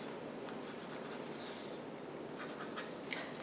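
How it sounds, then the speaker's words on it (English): Grid lines drawn by hand with a pencil on a metal piece prepared for piercing, a steady close scratching and rubbing with short strokes and no talking. "we would draw all of these lines in"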